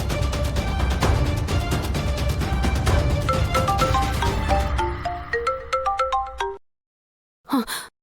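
A mobile phone ringtone plays as a call is placed, a bright repeating electronic melody that runs for several seconds and then stops, followed by a brief voice.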